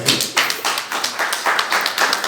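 Audience applause in a hall, steady dense clapping from many hands, fairly loud and sustained throughout, with no voices over it.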